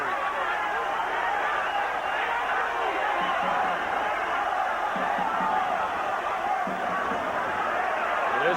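Boxing arena crowd in Quito, Ecuador cheering for local fighter Segundo Mercado in his bout against Bernard Hopkins, a steady dense roar of voices with chatter and shouts throughout, loud and continuous.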